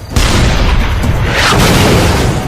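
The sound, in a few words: tank gun firing, direct hit on a T-34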